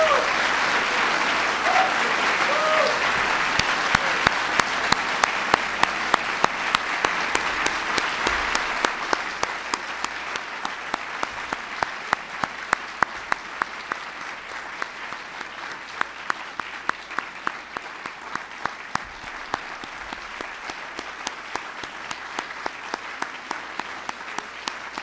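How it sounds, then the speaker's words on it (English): Sustained, loud applause for honorees at the White House ceremony for the National Medals of Science and Technology and Innovation, dense clapping from a large audience that gradually thins toward scattered, rhythmic individual claps. "Can everybody please give them one more big round of applause?"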